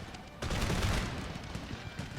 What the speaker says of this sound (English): that was a fire by rank.